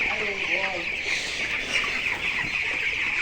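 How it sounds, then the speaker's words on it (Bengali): Twenty-two-day-old poultry chickens, underweight and sick with enteritis, cluck and chirp continuously at close range in a coop, with several birds calling at once and a voice talking over them. "এই দেখেন মুরগি, 22 দিনের মুরগি"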